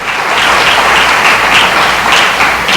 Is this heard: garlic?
no